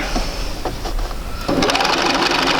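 A sewing machine stitches a quilt seam, starting with a few soft taps and then running at a steady, fast, close-up hum with rapid needle clatter.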